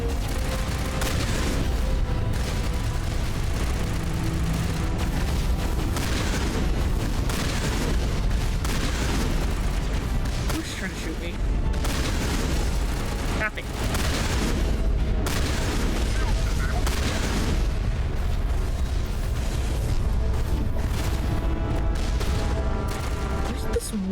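Automated turrets and other gunfire crackle through a Mass Effect 1 battle, with dense overlapping bursts and booms continuing almost without pause.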